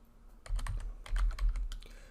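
Quick bursts of close keystrokes on a computer keyboard, a handful of rapid taps clustered in two short flurries with brief gaps, fairly quiet and with no talking.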